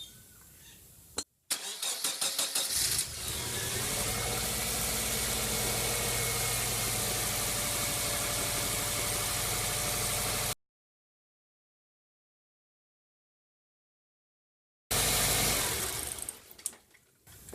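A Subaru EJ-series engine cranks and starts after its accessory belts are replaced, then settles into a steady, close idle with an even hum. The sound cuts out for a few seconds, then returns.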